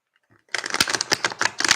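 After a moment of near silence, a stack of cards is shuffled close up, producing a quick run of crisp, rapid flicking and slapping sounds.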